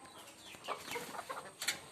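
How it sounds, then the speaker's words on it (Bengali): Native country chickens in a cage cluck and squawk in short, scattered bursts, fairly close, with a few sharper calls standing out above a low background hum. "আজকে আপনাদেরকে আমার শখের দেশি মুরগি খাঁচাটা দেখাবো"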